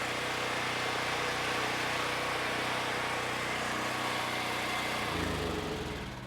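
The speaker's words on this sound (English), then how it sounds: "It should start up, but you do have to remember, switch on, give it a pull" Generac GP9200E portable generator engine running loud and steady with a dense, constant drone, its tone shifting and settling near the end as the engine's load or speed changes.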